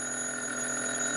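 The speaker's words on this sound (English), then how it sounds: "Then the phone rang" A telephone rings with a steady, bright electronic trill, close and fairly loud, heard alone with no talk over it.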